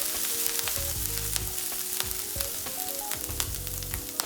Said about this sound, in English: Stir fry the aromatics for a few seconds.